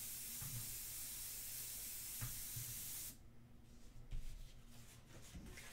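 A steady, fine hiss of an airbrush spraying India ink runs continuously for about three seconds, then stops, followed by quieter faint hissing bursts and soft handling noises.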